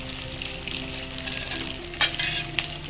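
Potato rolls frying in hot oil, a steady close sizzle with light bubbling and a few soft stirring clicks as they are turned.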